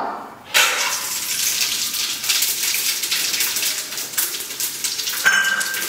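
Whole spices dropped into hot oil for a chicken curry burst into a loud, sudden sizzle that holds steady and crackling, with a brief fresh flare of spitting near the end.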